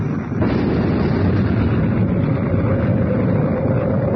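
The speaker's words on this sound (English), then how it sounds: "an explosion inside the Sphinx." Cartoon explosion inside the Sphinx: a sustained, roaring rumble of blast and debris, loud and steady for several seconds with no voices.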